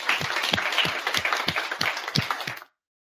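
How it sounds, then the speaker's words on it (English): Audience applause at a tech and sustainable clothing talk event, a steady patter of many hands with a few sharper, louder claps standing out, then stopping abruptly near the end. "If we can have a round of applause for Tim firstly"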